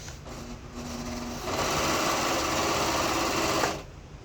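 A serger overlock sewing machine runs in a fast, steady whir for about two seconds, close and fairly loud, then stops, with a softer mechanical hum before and after.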